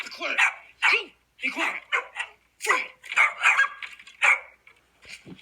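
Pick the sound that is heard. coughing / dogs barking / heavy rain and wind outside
dogs barking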